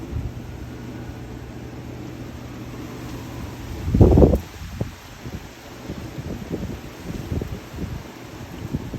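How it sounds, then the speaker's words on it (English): Strong wind blowing outdoors in Florida, a steady rushing roar buffeting the microphone throughout, with a louder gust near the middle and soft rustling bursts afterward. "It's very windy today."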